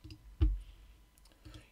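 A single sharp computer mouse click stands out clearly, followed by faint softer ticks and low background rumble.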